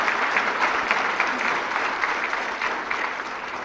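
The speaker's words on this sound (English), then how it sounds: "they truly deserve a big round of applause" A large audience at a formal summit opening in Pakistan applauds steadily, a dense, even wash of many hands clapping that holds at constant volume throughout.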